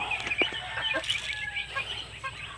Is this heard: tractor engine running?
no